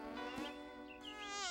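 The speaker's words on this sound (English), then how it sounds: "Milton had made the bee very angry indeed, and it flew straight back to its hive." A cartoon bumble bee buzzes in a steady, close drone whose pitch rises and falls as it flies, with no voices over it.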